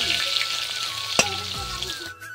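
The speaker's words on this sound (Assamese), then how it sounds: "ধুনীয়াকৈ আলুখিনি ফ্ৰাই কৰিব" Potatoes frying in hot oil, a steady close sizzle and crackle running without pause, with a brief stir or clatter partway through.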